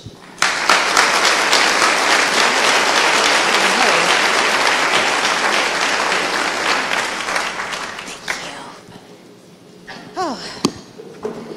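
An indoor audience greets a speaker walking onstage with loud, sustained applause that runs about eight seconds before fading away, and then a single voice begins speaking close to the microphone.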